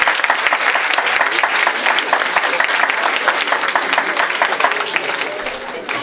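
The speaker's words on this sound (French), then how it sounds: "On peut les applaudir." Audience at an inter-high-school pleading competition in Martinique applauding the candidates, a loud, sustained and dense clapping that stays steady throughout.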